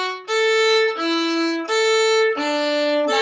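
Violin playing the last two bars of a piece, five clear bowed notes alternating between two pitches in an even, detached rhythm, close and alone.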